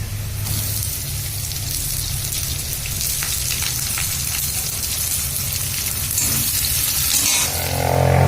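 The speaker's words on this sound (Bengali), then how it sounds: "আলুটা হালকা হালকা ভাজা হয়েছে, তো এর মধ্যে দিয়ে দিচ্ছি পেঁয়াজ আর লঙ্কার কুচি" Continuous loud sizzling of potato, onion and chilli frying in hot oil, with occasional scraping stirs, growing a little louder toward the end.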